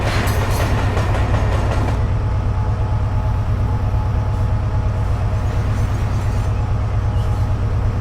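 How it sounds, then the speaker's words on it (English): A train on the South Wales coast rumbles steadily nearby up a steep gradient, with a dense low roar and faint rhythmic clatter throughout, slightly busier in the first couple of seconds. "I hear a train."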